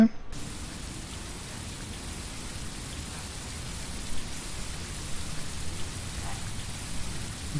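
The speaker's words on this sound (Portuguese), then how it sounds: "Tá chovendo, né?" Rain falls steadily in the Tourist Bus Simulator video game, a constant hiss of drops on surfaces that continues evenly throughout without a break.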